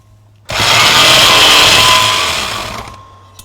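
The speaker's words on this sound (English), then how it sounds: "So that's just going to turn on that valve seat and grind that seat." A seat cutter grinds a Lancia Fulvia valve seat in a workshop, bursting into a loud, steady abrasive whir for about two and a half seconds before winding down.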